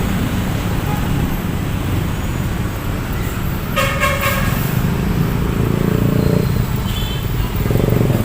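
Busy roadway traffic beside Manila Bay's Dolomite Beach, a steady wash of passing cars and trucks with a short burst of horn toots near the middle, loud and close throughout.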